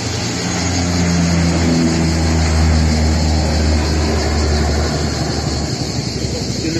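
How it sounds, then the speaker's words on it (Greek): A loud, steady engine drone with a low rotor hum fills the air, a helicopter passing close overhead during a wildfire at Neo Petritsi, Serres, holding constant throughout. "Το ελικόπτερο."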